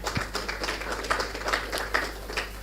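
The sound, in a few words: audience applause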